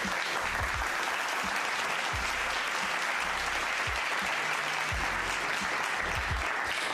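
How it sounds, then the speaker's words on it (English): A live audience gives a soul clap for a married couple, steady broadband clapping from a crowd lasting throughout, with a few low thumps underneath and no talk over it. "Soul clap for that."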